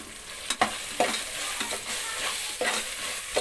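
Ginger garlic paste roasting in a pan for biryani, sizzling steadily with repeated scraping stirs of a spoon at irregular intervals, close and fairly quiet, with no talking.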